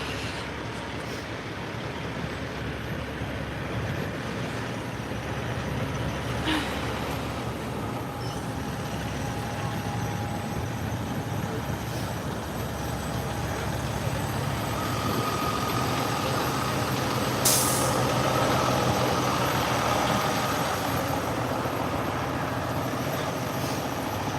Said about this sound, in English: So many trucks, guys.